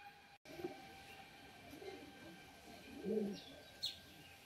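Pigeons of the biscuit-coloured fancy breed kept for sale coo softly in short low bursts, with a brief chirp near the end over faint background hum.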